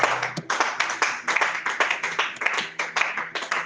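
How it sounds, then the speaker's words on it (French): Church congregation claps in a strong rhythmic beat, roughly two claps per second, crisp and close, sustained evenly across the whole stretch. "Est-ce que quelqu'un peut acclamer pour le roi des rois?"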